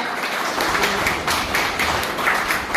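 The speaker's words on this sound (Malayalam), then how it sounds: "കയ്യടിക്ക് ശക്തി പോരാ" An audience at a book launch for a poetry collection, held at a seaside elderly care centre, breaks into steady, fairly loud applause, a continuous patter of many hands clapping with no voices over it.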